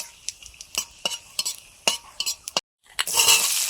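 Dried red chillies and whole cumin seeds dropped into hot oil after garam masala, crackling and sizzling under repeated sharp clinks of a spoon against the pan, then a short gap and a sudden louder hiss.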